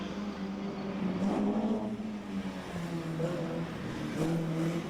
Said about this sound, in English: Car number 175 starting to make his way towards us now